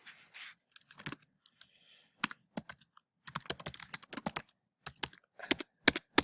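Keys on a computer keyboard tap in uneven bursts, close and crisp, with short pauses between runs of typing in a quiet room.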